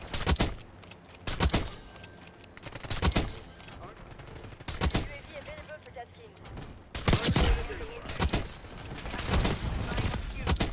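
Sniper rifle fire from the Frostline in a Call of Duty match, sharp loud shots spaced a couple of seconds apart with echoing tails, over game sounds and a voice talking.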